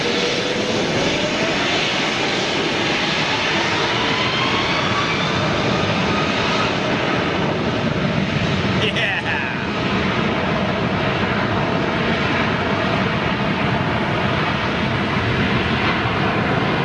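Large jet airliner departing from the southern runway over the beach, a loud continuous engine roar with a steady rumble that holds for the whole stretch, no voices.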